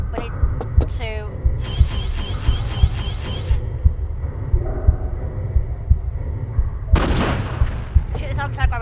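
Shots and blasts in a Tomb Raider level editor game aimed at an anti-gravity node, heard as several sharp cracks and a burst of rapid fire, with a loud broad blast near the end over a steady game background.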